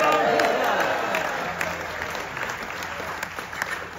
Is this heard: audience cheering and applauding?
yes